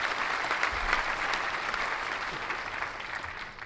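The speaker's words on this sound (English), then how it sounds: "do I have applause? I thought I had applause there." Recorded applause sound effect, a steady wash of clapping from a crowd that holds at an even level for several seconds before easing slightly at the end.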